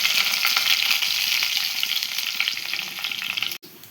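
Mustard seeds, curry leaves and cumin sizzle steadily in hot frying oil for an okra stir-fry, a close, continuous hiss with light crackles, cutting off abruptly near the end.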